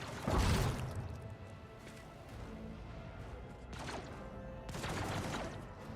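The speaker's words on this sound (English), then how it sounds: "There's someone shooting them from behind." Gunfire in the Warhammer 40,000 game Rogue Trader, three or four heavy shot bursts spread out with a rumbling bed between them, fairly close and loud.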